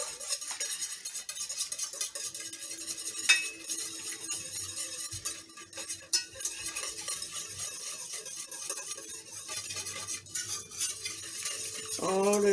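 Chicken parmesan marinade ingredients with salt get mixed in a bowl, with intermittent clinks and scraping of a utensil against the dish, fairly close and irregular, ending in a brief louder clatter.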